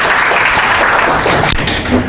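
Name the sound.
loud audience applause welcoming a speaker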